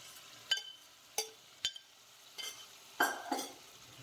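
A spoon knocks and scrapes sharply in a pan as pav bhaji masala is stirred in oil with boiled vegetables. Six separate clanks arrive in an irregular rhythm over a quiet bed of frying.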